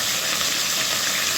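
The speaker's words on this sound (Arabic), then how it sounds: "هنديها بقى تشويحة الأول قبل ما نحط المكونات عليها، اللي هو البصل" Onions sautéing in a pan give a steady, loud sizzling hiss that holds evenly throughout, with no voices.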